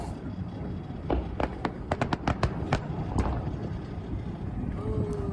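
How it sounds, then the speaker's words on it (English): Fireworks burst over Vancouver during the annual Celebration of Light, a cluster of sharp bangs and crackles in quick succession that is heard from a distance against a steady background rumble before fading. "The annual celebration of light fireworks kicked off over the weekend in Vancouver."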